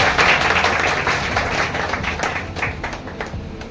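An audience applauds a student being honoured at an event in Bhagalpur. Dense, continuous clapping from many hands fills the room at full volume and tapers slightly toward the end, with no speech.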